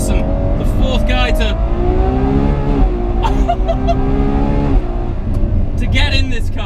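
A Ferrari 812 Superfast accelerates hard on the Fiorano track, its engine note climbing steadily through the revs, loud and close from inside the cabin, with someone talking over it.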